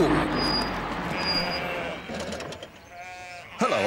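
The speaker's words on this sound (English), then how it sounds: "I'm just putting these sheep back where they belong." Sheep on a road being herded back to their field bleat in a cartoon scene, several wavering bleats close by, with other voices and sounds mixed in.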